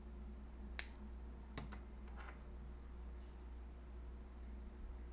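Wire cutters snip coil wire ends in a few sharp, faint clicks spread over a few seconds, set against a quiet steady hum.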